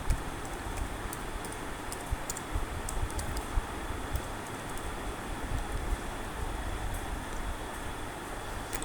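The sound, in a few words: typing a business name on a computer keyboard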